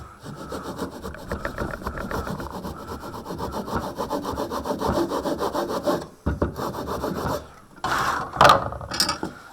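Hand saw cutting wood for a stopped housing joint, a steady close rasping of back-and-forth strokes for about six seconds, then a brief pause and a few shorter, scraping strokes at the end.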